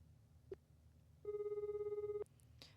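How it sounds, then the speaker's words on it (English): A phone rings in an otome video game: a single steady electronic warbling tone lasting about a second, quiet and clean, preceded by a short beep and followed by faint clicks. "After several rings, she finally picked up."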